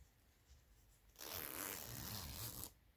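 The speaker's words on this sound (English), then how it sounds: "Zipper works." A clothing zipper slides closed along a seam just freed of its stay stitching, one steady, close raspy pull of about a second and a half after a quiet lead-in.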